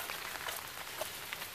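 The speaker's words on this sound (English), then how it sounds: "how's that for strong rain?" Strong rain falls in a dense, steady hiss of drops on surfaces outdoors, with a few louder individual splats standing out.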